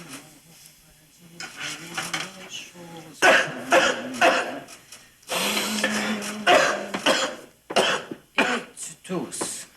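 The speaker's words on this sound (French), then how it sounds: "Tu tousses." Several rough, bursty coughs and throat clearing from a person nearby, in uneven clusters with short gaps, loud and close in an indoor domestic scene.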